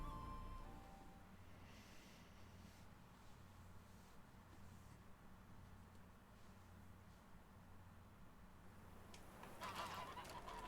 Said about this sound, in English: Not geese, they followed me.